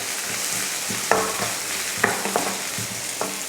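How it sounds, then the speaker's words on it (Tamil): Garlic, onion and curry leaves sauté in hot oil after mustard seeds and urad dal have spluttered, a lively sizzle broken by repeated stirring scrapes and clicks. "பொரிஞ்சதுமே ஒரு பூண்டு பல், வெங்காயம், கொஞ்சம் கருவேப்பிலை, இதை வதக்கிடலாம்."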